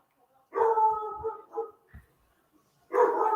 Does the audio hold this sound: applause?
no